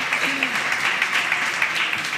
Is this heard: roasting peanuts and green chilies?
no